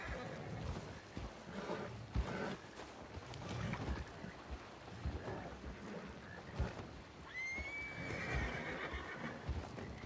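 Repeated neighs and whinnies from an upset video game horse over a steady, noisy ambient background with occasional hoof sounds, one high drawn-out whinny near the end.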